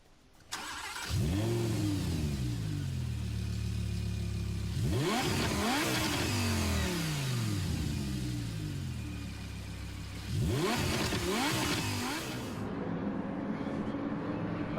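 A Honda S2000 GT1 Turbo race car in Gran Turismo Sport revving hard through the gears, rising and falling engine pitch with gear shifts, a loud continuous roar from start to finish with a brief cut near the end.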